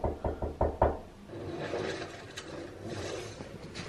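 Knocking on a door: a quick series of about five sharp knocks, close and distinct, followed by quieter shuffling and indistinct rustling.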